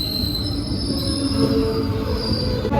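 A train near Guruvayur, Kerala rolls steadily along the rails with a continuous high metallic wheel squeal and a low rumble, heard close up with no voices.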